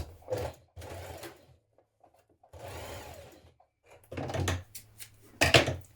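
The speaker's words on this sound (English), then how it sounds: "Now stitch the 2 short edges of the front and back waistbands together." Bursts of sewing machine stitching join the short edges of front and back waistbands, several separate runs of rapid mechanical whirring separated by quiet gaps, close and fairly loud.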